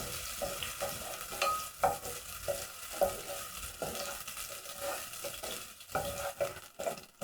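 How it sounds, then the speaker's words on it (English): Onions cooking in a pot, stirred with soft scraping and clinks over a low, quiet sizzle, the stirring strokes coming in irregular bursts without any talk. "So to my pot, I'm going to add onions. Stir. Cook the onions until soft."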